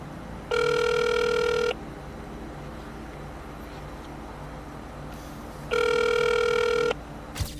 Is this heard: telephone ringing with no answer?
yes